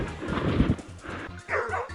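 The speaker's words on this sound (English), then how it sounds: "The barking of hunting dogs echoed across the distant forest, and Finn immediately bolted" Dogs bark and yip in a rapid series of short, sharp calls, fairly close, with some whimpering between barks.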